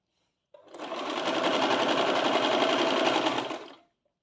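A sewing machine stitching the side cut of a chudidar runs in one continuous, close burst of fast, even stitching lasting about three seconds, then stops.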